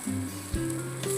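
Thalipith flatbread roasting with a little oil on a hot griddle, a soft steady sizzle close by for a brief moment, no voices.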